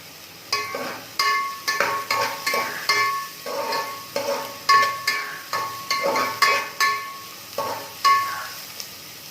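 Onion sautés in a pan, with a spatula scraping and stirring in a steady rhythm of sharp strokes over a soft background sizzle, close and fairly loud.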